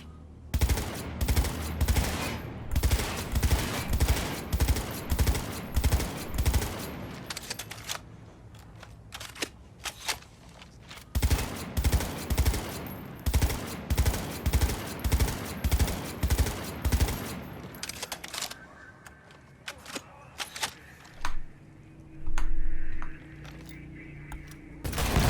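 Handgun and assault rifle fire in the video game Cyberpunk 2077 crackles in rapid, regular bursts of sharp shots, pausing briefly between volleys, then gives way to scattered single shots and a thud near the end.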